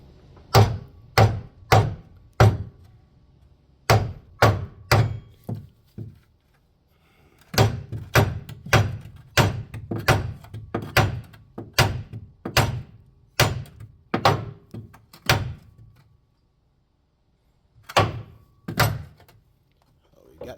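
Metal hammer blows on a stuck Ford F350 truck bed part outdoors, loud sharp metallic bangs in uneven bursts of two to four strikes, with pauses between groups.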